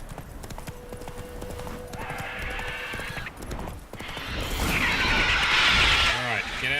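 Hooves clip-clop at a rapid gallop from a horse ridden in The Witcher 3. Game music and effects play underneath, and someone talks over the sound.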